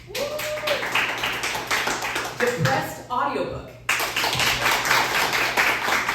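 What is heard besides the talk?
theatre audience clapping to vote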